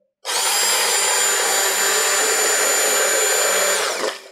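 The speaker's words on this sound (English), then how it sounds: "immersion blender, you just put the base of the blender straight into the bottom of the bowl and then puree it" An immersion blender purees roasted butternut squash soup, a steady, loud motor whine that runs continuously for about four seconds before cutting off.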